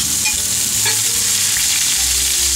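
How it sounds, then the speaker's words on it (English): Onions sizzle loudly in hot oil on a Yoder YS640 grill, a dense constant crackling hiss with faint stirring, close up and with no voices. "And that sizzle is awesome, right?"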